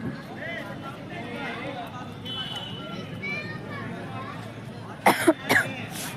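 A person suffering from a cold coughs in an outdoor park: two or three harsh, close coughs burst out near the end after a stretch of quiet open-air background.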